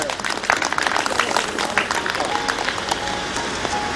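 Applause at a rice donation ceremony held by a community savings cooperative, many hands clapping in an uneven, continuous patter with some voices mixed in.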